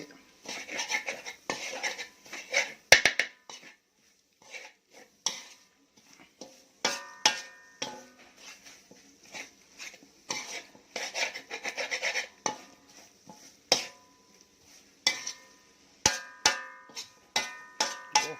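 Field rat meat is dry stir-fried in a pan for a spicy Isan dish, with repeated metal scrapes and rasping clanks of a spatula against the pan coming in irregular bursts, close and fairly quiet, with pauses between strokes.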